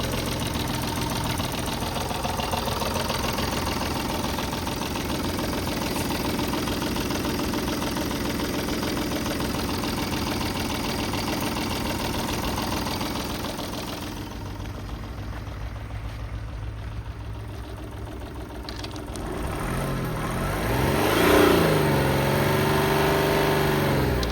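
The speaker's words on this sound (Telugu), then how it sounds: "ఒక్కసారి ఇంజన్ అనేది స్టార్ట్ చేసి చూస్తాను సార్ చెక్ చేసుకోవచ్చు ఇంజన్ పొజిషను" A 2018 Tata Tiago NRG XZ 1.05-litre diesel engine runs steadily with a low rumbling idle, briefly dropping quieter before revving back up near the end.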